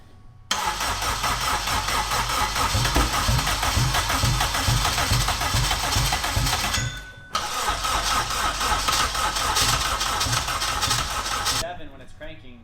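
800+ hp AWD Honda Civic engine cranking on a jump box, loud and rhythmic for several seconds, pausing briefly, then cranking again before cutting off, with voices in the background.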